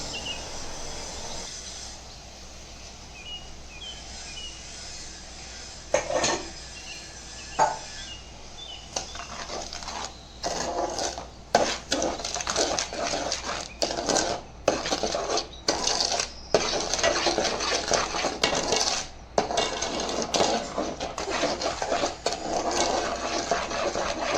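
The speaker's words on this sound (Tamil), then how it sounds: "சேர்த்து நல்லா கலந்து விட்டு நல்லா கட்டியாகிற வரைக்கும் கிண்டி விடணும்" Jackfruit halwa with sugar being stirred in a pan, a spoon scraping and clinking against the metal in repeated sharp strokes over a steady low background hiss, close and moderately loud.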